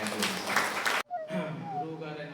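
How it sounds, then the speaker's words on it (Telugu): A burst of audience clapping at a Pyramid meditation gathering lasts about a second and cuts off abruptly, followed by a single voice speaking. "గట్టిగా క్లాప్స్"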